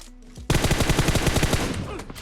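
Rapid automatic gunfire in the mobile shooter PUBG Mobile starts abruptly and rattles as a dense, loud burst of shots for nearly two seconds before trailing off.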